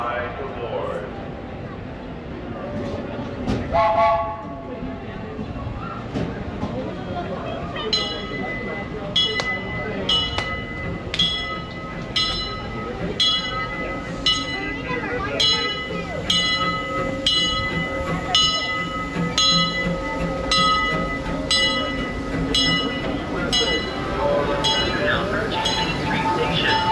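A Disneyland Railroad steam train pulls into its station with a loud, continuous rumble, metallic clinks and sustained ringing tones. A public-address voice speaks over the train.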